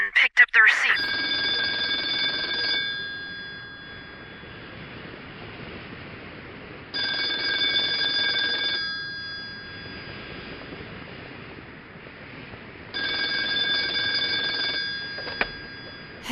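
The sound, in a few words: telephone ringing, audio drama sound effect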